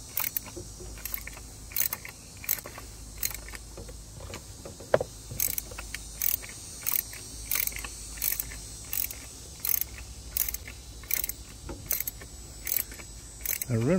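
A hand tool ratchets in repeated short clicks while tightening a plastic oil filter housing on a Land Rover LR4, steady bursts of clicking over a low background hum.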